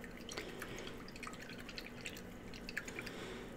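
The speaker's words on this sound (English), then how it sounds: "We'll go ahead and rinse our brush off" A paintbrush swished and rinsed in a water pot after applying Citadel contrast paint, giving soft, irregular drips and splashes close by, steady and fairly quiet throughout.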